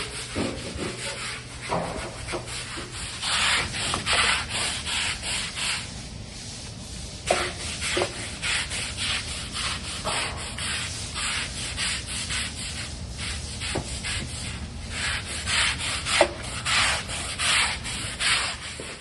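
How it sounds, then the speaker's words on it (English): A floor scrubbed with a brush and 12% bleach soap during a deep clean, producing repeated rhythmic scraping strokes with short pauses, close and moderately loud with no voices. "We scrub and bleach,"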